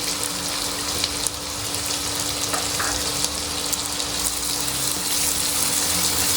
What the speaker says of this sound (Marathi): आता त्यात बारीक चिरलेला कांदा घालणार आहोत